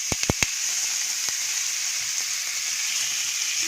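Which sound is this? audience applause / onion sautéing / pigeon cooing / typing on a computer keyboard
onion sautéing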